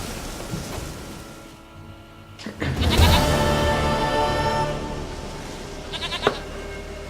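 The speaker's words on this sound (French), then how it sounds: "Une chèvre à moi, gentille, douce Biquette." A goat in the video game The Witcher 3: Wild Hunt bleats loudly and close, one long wavering call followed by a shorter bleat over quiet ambient game sound, with no talking.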